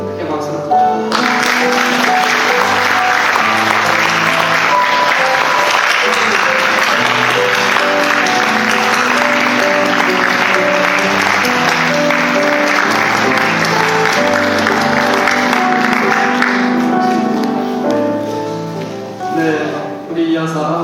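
A congregation claps loudly for retiring missionaries at a church thanksgiving service. The applause holds for about fifteen seconds, then fades, with music and voices underneath.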